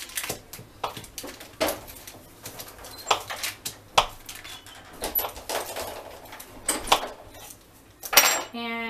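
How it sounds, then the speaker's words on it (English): A knife cutting butter into tiny pieces taps and scrapes repeatedly against a board and dish, irregular clicks and knocks close by, ending with a short metallic clatter. "So I'm gonna cut my butter, just cut it into tiny little pieces."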